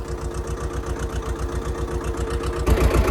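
A tractor engine runs steadily while ploughing a field, a close, loud, even rumble with regular low pulses and a slight surge near the end.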